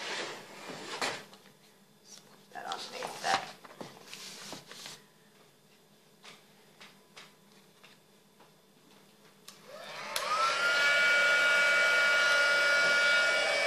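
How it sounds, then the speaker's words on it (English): A heat gun melts embossing powder on a stamped card-making project, starting after several seconds of light handling clicks and clatter, then blowing a steady, loud, continuous whirr until the end. "Time to bring in the heat gun."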